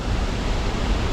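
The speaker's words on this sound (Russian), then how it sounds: "Но водопад классный, очень мощный." A powerful waterfall throwing heavy spray, a dense continuous roar of crashing water close by, broadband and steady over a short stretch with no voices.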